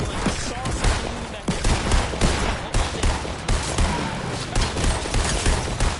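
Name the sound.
gunfire in Fortnite video game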